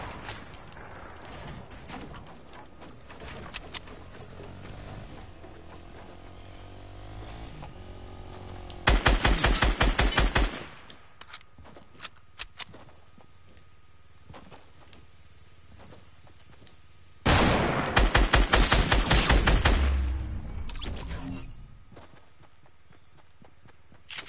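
Bursts of rapid automatic gunfire from the Fortnite video game, two loud rattling volleys separated by quieter in-game sounds such as footsteps and scattered single shots.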